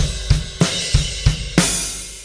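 Drum kit pattern of three-note kick and snare groupings played twice, with an open hi-hat hiss washing out after the final hit; six sharp close strikes in quick succession, no voices.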